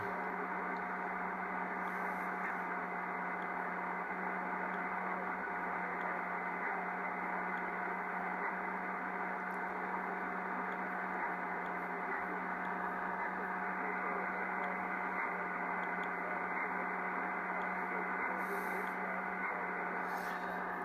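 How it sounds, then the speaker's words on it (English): AM radio reception through an RTL-SDR receiver running CubicSDR software, heard as a steady hiss with faint, muffled broadcast content and a persistent hum, continuous throughout with no clear breaks. "And that sounds like there's some AM coming through there."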